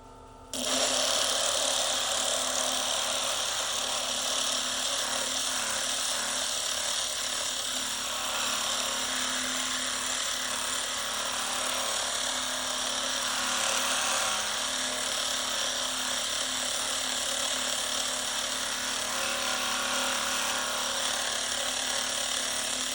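Meteorite pieces are ground and polished on a grit lap or polishing machine, which gives off a steady, loud mechanical whir and hum for the whole stretch. No one speaks over it.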